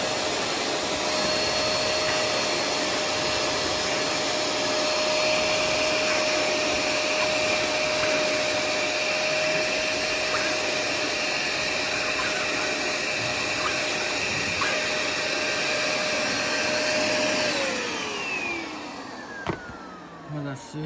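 Suction motor of a Vax Dual Power Pet Advance ECR2VP1 carpet washer running on a rug, a loud steady high-pitched whine and roar that holds for most of the clip, then drops in pitch and winds down near the end.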